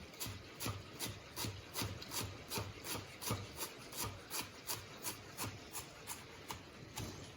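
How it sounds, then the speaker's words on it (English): A knife chops fresh oregano finely on a cutting board in a home kitchen, giving a steady, even run of close, crisp strokes with no talking. "this oregano, I'm just going to slice off and chop very finely."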